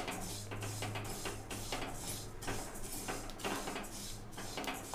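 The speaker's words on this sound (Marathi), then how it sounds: "असं सतत हलवायचं आहे" Sesame seeds roasting in a kadhai and stirred nonstop, giving a steady dry scraping and rustle with small clinks of the spoon against the pan, close and continuous.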